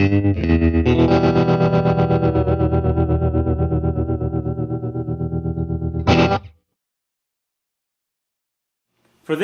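An electric guitar through a Purdy tremolo pedal and tweed amp plays sustained chords with fast, deep, pulsing volume, then a final struck chord that cuts off into silence.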